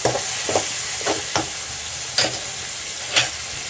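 Frying in a pan for mushroom gravy: a soft steady sizzle with several sharp scrapes of a spoon stirring at irregular intervals, close and fairly quiet, no talking.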